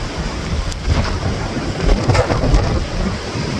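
Heavy sideways-driven rain during a windy Portland, Oregon storm hisses steadily and loudly, with gusty surges and a low rumbling undertone.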